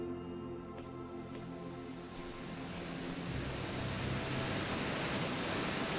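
A video game waterfall in The Talos Principle VR gives off a steady rushing hiss that builds slightly louder and rougher partway through and then holds as continuous broadband noise.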